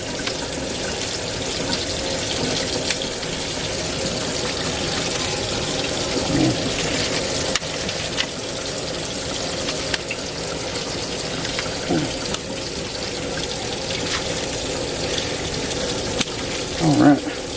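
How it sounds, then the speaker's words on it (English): Tap water runs steadily into a sink as tie-dyed fabric is rinsed, a loud continuous gushing that lasts throughout with faint handling splashes and a voice speaking briefly under the flow. "should I just go ahead and rinse it a little bit here first?"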